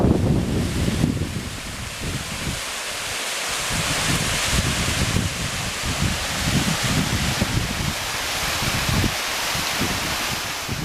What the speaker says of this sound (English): I love seeing waterfalls in the desert.